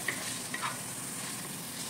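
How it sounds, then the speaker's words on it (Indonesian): Chicken pieces stir-fried in a wok for chap chai vegetables, a steady close sizzle with scraping stir strokes and a few clinks of the utensil against the pan. "Kita tumis-tumis dulu seperti ini"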